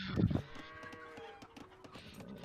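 A cow in the video game Age of Empires 2 gives a short, fairly quiet low moo at the start, followed by faint game sounds.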